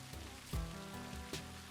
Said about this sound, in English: with the rain system, like the plants actually soak up the rain